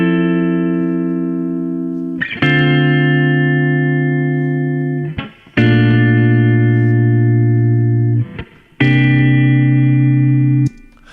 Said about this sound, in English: on the super clean setting, you can just hear what I actually played without any bells and whistles